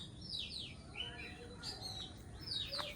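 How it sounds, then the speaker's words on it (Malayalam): Several birds chirp and tweet in a fruit garden, with repeated bright descending calls close by over a steady outdoor background hum, and a soft cooing note near the end. "നിറച്ച് കിളിയാണ്"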